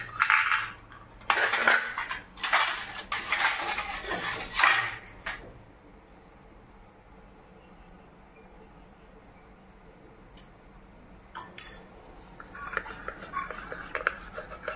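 Metal idli stand plates clink and clatter as they are pulled apart and handled for oiling, several close, busy bursts early on, then a quiet stretch before a few more light metallic knocks near the end.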